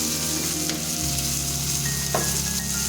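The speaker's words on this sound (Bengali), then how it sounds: "এখন এটাকে আমরা মিনিট 7 ধরে লুচিয়ে কষাতে থাকবো।" Taro stems (loti kochu) stir-fried with prawns, green chillies and cumin powder sizzle steadily in a pan, with a few scraping stirs and a brief clatter near the end; no talking.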